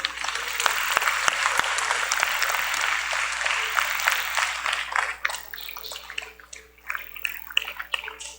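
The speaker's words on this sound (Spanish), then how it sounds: "Dele un aplauso al Padre." A church congregation applauds after a sermon, a broad wash of clapping with a few sharp claps at the start, thinning toward the end.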